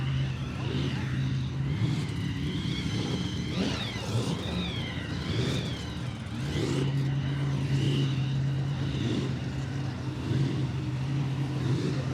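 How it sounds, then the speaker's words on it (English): A loud V8 street machine skids through a Pinjarra muscle-car show, its engine roaring continuously with repeated rising and falling revs, heard up close over the background noise of the event. "Just a skid machine coming through."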